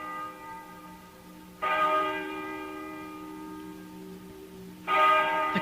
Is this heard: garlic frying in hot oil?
no